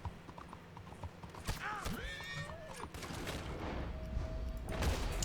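In the open-world western game Red Dead Redemption 2, rhythmic hoofbeats of a galloping horse run steadily under a neigh and scattered gunfire, with ambient game sound throughout.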